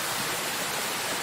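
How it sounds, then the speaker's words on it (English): A waterfall in Royal National Park, New South Wales, gives a steady, even rush of falling water, faint and distant, for a brief moment with no talking. "And then the waterfall continues just over there."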